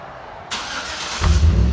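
A 2013 Chevy Avalanche 5.3L V8 with a 14-inch MagnaFlow body muffler, stock tailpipe and quad tip starts up. A short crank leads into a deep, loud exhaust rumble close by.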